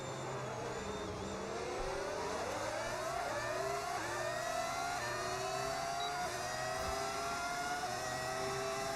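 A Formula One car in the F1 26 racing game, fitted with modded engine audio, revs loudly and continuously, its pitch rising and falling through gear changes over steady track noise, with no talk.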